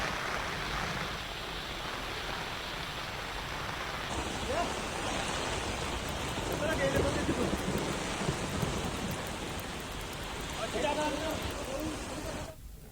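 Heavy monsoon downpour in Buldhana, with overflowing drains and streams, a steady broadband roar of rain that holds loud and constant throughout, with some brief shifts in texture and no clear speech.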